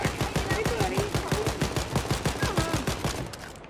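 Gunfire in the shooter Wolfenstein: Youngblood, a steady rhythmic automatic burst of evenly spaced shots for several seconds before cutting off, with faint voices underneath.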